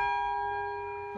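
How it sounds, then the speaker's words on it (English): A single ringing stroke from a swinging bell at St Ann's Church, South Tottenham, as the clapper strikes its side, leaving a clear metallic tone with bright overtones that slowly decays. "that bell's swinging and the clapper's just hitting the side"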